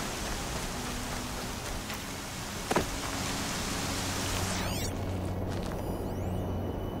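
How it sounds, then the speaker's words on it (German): Steady broadband rain in the video game Horizon Zero Dawn, a constant hiss of falling drops filling the scene with a faint low hum beneath and a brief knock near the middle, no voices. "Nur bei dem Regen ist es jetzt gerade halt eine absolute Katastrophe"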